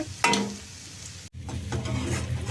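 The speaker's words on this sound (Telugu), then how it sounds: "పీతల పొరుటు ఏగుతుందండి, చూసారు కదా" Crab stir-fry sizzling in a pan at home, a soft steady hiss with a couple of sharp scraping stirs and a brief clatter, no talk.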